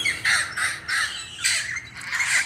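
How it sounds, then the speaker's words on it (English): Parrots squawk in the background in a series of harsh, raspy calls, about six bursts in quick succession at moderate distance. "See the parrots in the background?"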